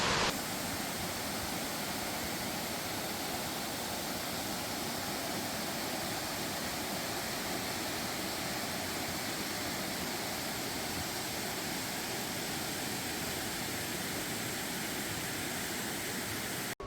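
A small mountain waterfall gives a constant broadband rushing hiss, steady and unbroken, fairly faint, with no voices.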